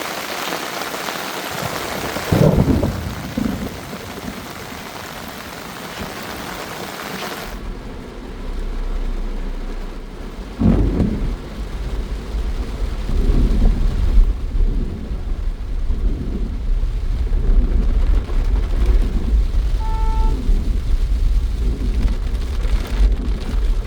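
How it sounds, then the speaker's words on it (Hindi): Heavy rain pours down in the Jim Corbett jungle, a dense steady roar throughout, with a deep rumble of thunder rolling in early and further low rumbles later; no one speaks. "ये घनघोर बारिश में जिम कॉर्बेट में चलते हुए बारिश के पूरे मज़े।"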